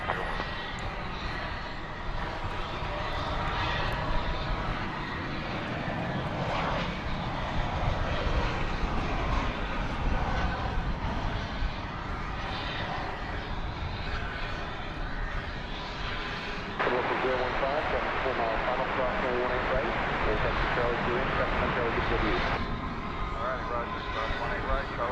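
Alaska Airlines airliner, a flight from Seattle, moving at DFW Airport at night, giving a steady, loud jet engine roar that fills the whole stretch with a rising whine near the end, while a voice talks over it throughout.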